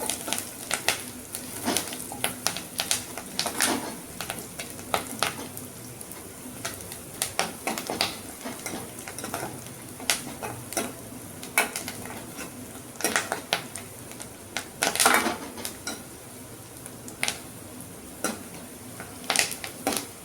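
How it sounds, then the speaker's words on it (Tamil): Onions with curry leaves and green chilies sautéing in a pan, a low sizzle under repeated scraping and clinking of a spoon stirring against the metal, close and fairly quiet. "நல்லா ப்ரௌன் கலராக வர வரைக்கும் வணக்கிடுவோம்"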